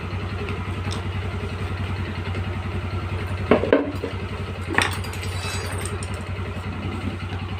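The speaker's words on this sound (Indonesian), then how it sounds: "Motor sudah dalam keadaan menyala ya." A Yamaha Xeon scooter engine idles steadily with a low, even throb, with a couple of brief clanks around the middle.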